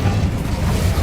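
An Incendio fire spell goes off in Hogwarts Legacy, a loud, dense, low roaring whoosh of flame that fills the brief moment steadily with no clear voice over it.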